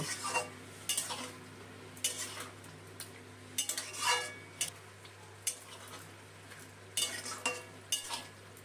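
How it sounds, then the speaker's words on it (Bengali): Chicken stirred with ginger, garlic and green chili paste in a pan, a spoon scraping in irregular bursts of clinks and scrapes over a faint low hum, with no voices. "এখন এই বাটা মশলাটা মাংসের সাথে মিশিয়ে নিই কষিয়ে নেব"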